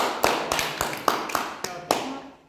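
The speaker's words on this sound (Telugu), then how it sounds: "Clap for the girl." Children in a classroom clapping for a girl, a run of sharp, uneven claps close by, loosely spaced rather than a full ovation, with faint voice underneath.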